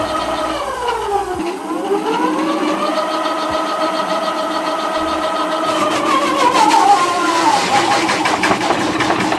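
The hub motor of an electric bike whines as it spins the lifted rear wheel under load, a tonal whir sweeping down then rising in pitch, steady and close, growing louder and rougher toward the end.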